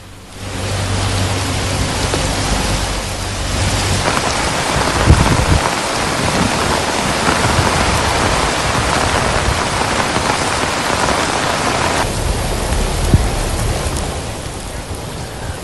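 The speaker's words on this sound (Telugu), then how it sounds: "ఢిల్లీలో తెల్లవారుజామున నుంచి ఎడతెరిపి లేకుండా భారీ వర్షం పడింది" Heavy, steady rain pours down in Delhi without pause, a dense broadband roar throughout, with a low rumble early on and no voices.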